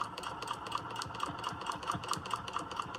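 Sewing machine stitching a quilt block with ruler work, a steady, close mechanical whir with a regular rapid needle rhythm running continuously, no talk.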